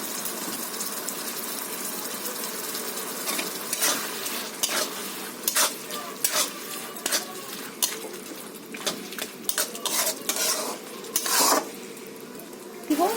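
Chicken pieces seasoned with salt being stir-fried for chicken ghugni, with a steady low sizzle broken by repeated sharp scrapes and clanks of a spoon against the pan, coming close and fairly loud in uneven bursts.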